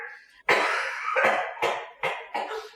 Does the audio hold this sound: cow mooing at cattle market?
no